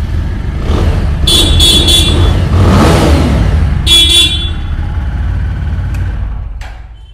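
A 4V motorcycle with about 2,800 km on it runs with a steady low engine rumble, loud and close, while a couple of sharp horn toots cut in over it.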